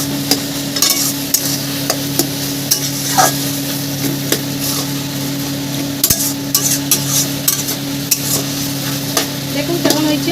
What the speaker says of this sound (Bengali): আমি ভালো করে নাড়িয়ে নেব